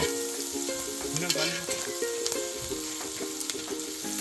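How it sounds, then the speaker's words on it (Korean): Pork belly and shishito peppers sizzle on a cast-iron pot lid at a campsite, a steady close crackling fry with a faint melodic tone running underneath. "고기가 타지 않고 잘 구워지고 있어요."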